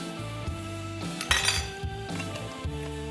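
A spoon stirs pre-minced garlic into a ramen soup base in a pot, giving a few light metallic clinks and scrapes over a steady, tonal background hum.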